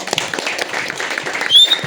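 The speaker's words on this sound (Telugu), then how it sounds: "తన క్లాప్స్ కొట్టండి ఫస్ట్" An audience claps for a volunteer event anchor, a dense, steady patter of many hands lasting the whole moment, fairly loud and close, with a brief bright whistle-like tone near the end.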